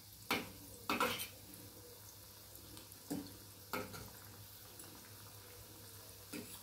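Spinach puris fry in hot oil with a faint steady sizzle, broken by several sharp scraping clatters as a utensil stirs and flips them in the pan, quiet overall with no talking.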